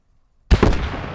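A sudden loud blast from a destroyed vehicle in a competitive online shooter match, bursting out of near silence with a sharp double crack and a rumbling tail that fades out.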